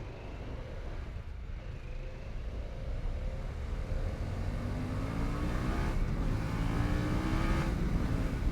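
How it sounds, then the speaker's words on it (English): A Harley-Davidson Pan America 1250 motorcycle engine revs and climbs in pitch, its throaty drone rising steadily and growing louder, close by with no voices. "does it sound like a traditional Harley-Davidson? Of course not. Does it sound respectable? Absolutely."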